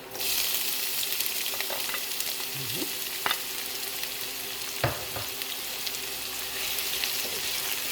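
Red onion frying in a pan with garlic for an Ethiopian macaroni pasta dish gives a steady, close sizzle, broken by a few sharp clinks and scrapes of stirring.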